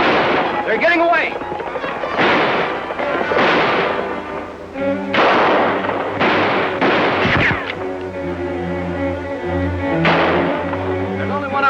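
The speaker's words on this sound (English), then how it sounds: "There's only one of them shooting at us." Gunfire rings out in a western TV shootout, several sharp loud shots in bursts with echoing tails over a music score, and voices speak between the shots.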